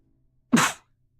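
A single sneeze, short and abrupt, close and fairly loud, bursting out of near silence and fading within about a quarter second.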